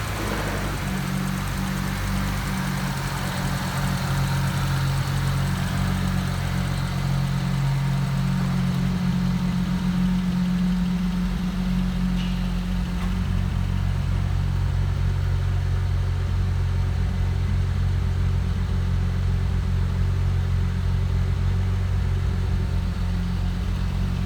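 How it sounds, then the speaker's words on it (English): A BMW 335i engine idles steadily and smoothly, a continuous low, even rumble that stays close and loud with no voices over it. "I just take a bit of time to appreciate how my engine runs very smooth"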